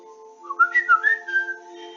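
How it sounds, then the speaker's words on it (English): A cell phone ringtone with a whistle-like tone: a short run of gliding, warbling whistled notes rising and falling for about a second over a steady electronic hum, then fading out. "the sound of the phones, cell phones, that ringtone which sounds like a whistle"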